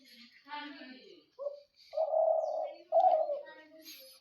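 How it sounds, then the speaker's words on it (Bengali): Pigeons cooing in cold winter weather, several soft throaty coos and calls from nearby birds, with gaps of quiet between them and a short chirp near the end. "পাখি কীরকম ডাকাডাকি করতেছে।"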